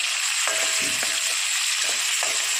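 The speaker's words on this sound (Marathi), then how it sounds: "टोमॅटो परतून घेऊया." Tomatoes sautéing in a pan with onion, chillies and cumin, a steady close sizzle with a few soft stirring scrapes throughout, no voices.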